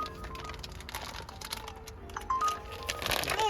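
A wrapped package is opened with crinkling and rustling wrapping, irregular crunchy bursts close by, growing louder toward the end with no clear talk.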